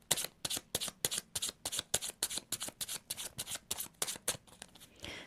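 Lenormand cards are handled and flipped close up, a rapid, fairly even series of about twenty crisp papery snaps and flicks with no voices.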